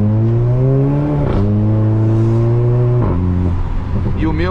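A Volkswagen Jetta TSI with an exhaust tuned to growl like a Golf GTI, revving loudly and close in long sustained pulls with steady pitch, dropping off between pulls, plus sharp pops near the end.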